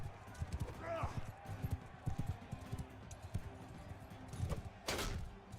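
Horse hooves gallop in Mount and Blade: Bannerlord, a quick, rhythmic clip-clop of pounding strides running steadily throughout, with brief voices and other game sounds around them.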